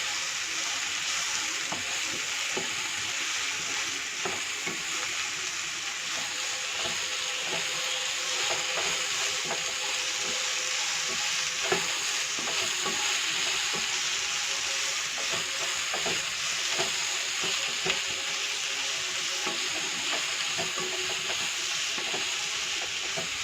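Mixed vegetables with green chillies and a pinch of Kashmiri chilli powder sauté for veg noodles, giving a steady, close frying sizzle that runs without a break, with faint stirring clicks underneath.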